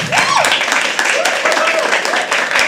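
Audience at a live poetry open mic clapping and cheering, a brisk uneven patter of hands mixed with whoops and shouting voices.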